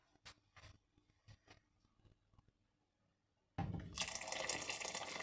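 Water pouring into a soup pot for chicken minestrone, a few drips and small splashes first, then a loud steady rush of water filling the pot for the last second and a half.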